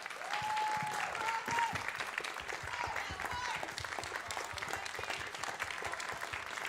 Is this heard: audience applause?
yes